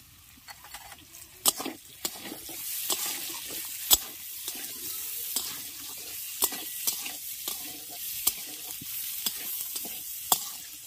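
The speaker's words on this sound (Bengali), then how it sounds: "আলু, গাজর, পেঁয়াজ আর কাঁচা লঙ্কাটাকে ভেজে নিয়েছি।" Potato, carrot, onion and green chilli stir-fried for homemade chowmein, a soft continuous sizzle broken by repeated sharp scrapes and clinks of a spatula against the pan, close and alone.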